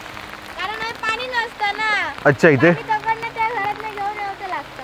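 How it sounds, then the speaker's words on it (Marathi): Rain falling on a Konkan village during the monsoon makes a soft steady hiss in the background, mostly under a person speaking close up. "मस्त पाऊस पडतोय, मस्त पाऊस पडतोय"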